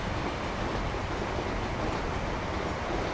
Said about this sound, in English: so you can watch this train come in.